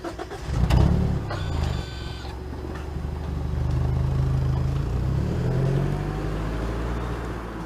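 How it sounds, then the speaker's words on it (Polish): A 2019 Mazda 3 2.0 Skyactiv-G mild hybrid engine turns over and settles into a steady exhaust drone, swelling briefly as it revs, then easing back to a smooth idle. "Dźwięk silnika i układu wydechowego brzmi całkiem dobrze."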